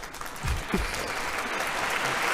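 A group of people claps briefly, a short burst of steady applause heard alone without talk.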